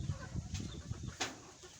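Fighting-breed hens, one of them gold-colored, cluck softly and intermittently at close range on a farm, with low murmuring clucks and a couple of brief rustles.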